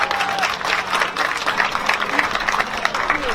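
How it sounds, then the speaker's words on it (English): Crowd applause at an outdoor Muslim rally for George Floyd in Minneapolis, a steady, dense wash of clapping with scattered cheers that holds at an even level from start to finish. "let's give a round of applause for our sister"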